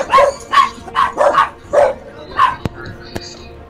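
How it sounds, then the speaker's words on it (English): Several loud, close dog barks come in an uneven rapid series, followed by a couple of sharp knocks and quieter sounds. "he had to mute because his dogs went crazy"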